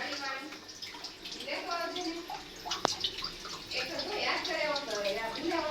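Water runs from a bathroom tap hose at home while Holi colours are prepared, a steady splashing hiss beneath overlapping conversation.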